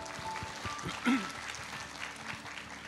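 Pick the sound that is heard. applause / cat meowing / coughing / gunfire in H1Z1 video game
applause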